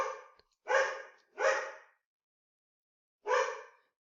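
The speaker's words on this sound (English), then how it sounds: "I was trying to make my dog be quiet" A dog barks four times, sharp and fairly close, with short gaps and a longer pause before the last bark, and no talking over it.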